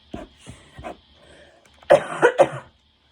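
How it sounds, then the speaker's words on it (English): Several short coughs, a few quieter ones at first and then three louder, harsher bursts close together, with no talking. "still the same cough from yesterday"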